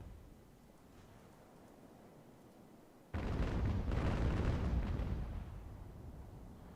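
Heavy broadside of sailing-ship cannon fire in the naval game Ultimate Admiral: Age of Sail, a sudden loud rumbling blast after quiet ambience that rolls on for several seconds before easing off.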